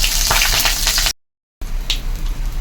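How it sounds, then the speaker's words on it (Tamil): Fennel seeds sizzle loudly in hot oil for a prawn curry, a close, crackling fry broken briefly by a moment of silence. "சோம்பு கொஞ்சம் போடுறோம். நல்லா பொரியட்டும்."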